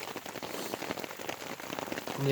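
Steady heavy rain at night in the Izera Mountains patters densely on a surface, a continuous wash of drops with a faint voice near the end.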